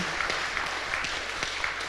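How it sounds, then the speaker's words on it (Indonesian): Audience applause for speakers at the end of a panel discussion, a steady, fairly soft wash of clapping from a seated crowd with no voices over it. "Tepuk tangan untuk Bapak narasumber."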